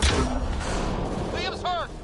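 A grenade bursts in the Mass Effect Andromeda video game, a loud broadband blast right at the start that rumbles on before a voice cries out briefly near the end.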